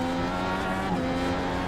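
A 2018 IndyCar in iRacing carrying speed through the Nordschleife's second carousel, engine holding a steady high-pitched drone with a faint tyre scrub, continuous and loud.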